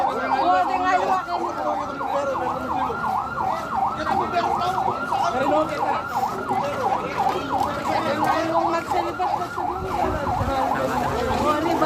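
Fire truck siren wailing in a rapid, continuous up-and-down cycle at a barrio gathering in the Philippines, loud and steady throughout, with voices talking underneath.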